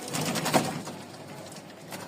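Long-tailed pigeons, a male and female pair, cooing: soft low throaty coos close by, one fuller call early on, over a hazy background hiss.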